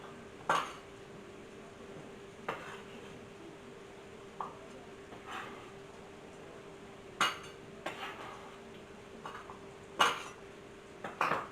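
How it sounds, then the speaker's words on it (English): A knife cuts up sausage in a home kitchen, making sparse, faint clicks and clinks of the blade on a board or plate over a quiet background hum. "While I cut up my sausage."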